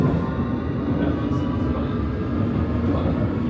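London Underground tube train standing at the Latimer Road platform, a steady loud low rumble and hum filling the whole span with no clear breaks.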